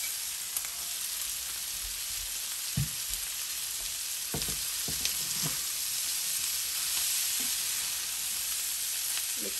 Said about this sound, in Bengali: এটার সাথে চিংড়ির সাথে আর একটু ভেজে নেব।